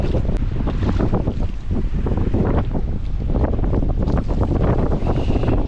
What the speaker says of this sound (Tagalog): Parang lakas ng hangin sa labas.